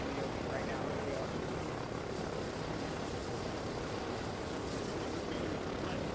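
A video-game helicopter flying over the ocean gives a steady, distant rotor whir and engine drone that continues throughout, with some voices faintly underneath.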